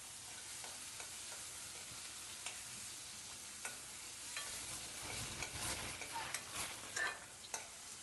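Onion and tomato cook in hot oil for chhole, giving a soft, steady sizzle with occasional stirring scrapes of a spoon, fairly quiet and close, with no voices.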